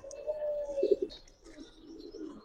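A female racer pigeon coos nearby in soft, low, throaty bursts, with a few pulsing notes in the middle and quieter murmuring after.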